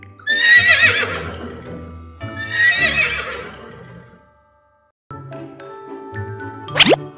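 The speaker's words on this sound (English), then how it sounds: "Horse." A horse neighs twice in long, loud whinnies with bright jingling tones running underneath, then a quieter stretch before a sharp rising tinkle near the end, part of a children's animal-sound song.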